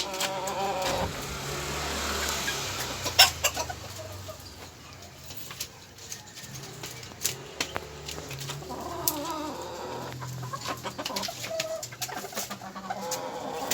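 Backyard hens and a rooster in a small poultry pen cluck and call in scattered bursts over steady outdoor background noise, with a passing vehicle faintly audible.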